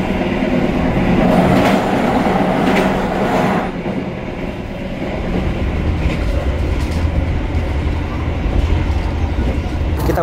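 Argo Bromo Anggrek executive train departing Pekalongan station in Indonesia, heard from inside as a loud steady rumble with clattering wheels on the rails.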